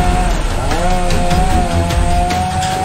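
A chainsaw runs continuously up in a tree, its loud, close engine revving and wavering steadily throughout.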